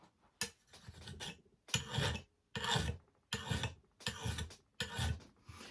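A steel file rasps across an axe blade to take off the burr, six rhythmic rough strokes with brief pauses between them, close and fairly quiet, with no speech.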